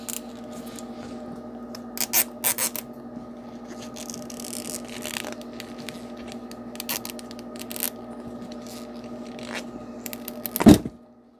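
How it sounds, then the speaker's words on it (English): A plastic zip tie is ratcheted tight on a homemade slingshot, a run of quick close scraping clicks under a steady electrical hum, ending in a sharp louder zip near the end. "right before you put the zip tie down on it"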